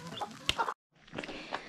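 Chickens cluck close by in a couple of short bursts, broken by a brief silent gap, then continue more softly.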